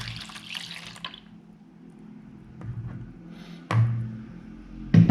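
Warm water and then warm milk being poured into a bowl for bread dough, short close splashing pours with quiet gaps between them.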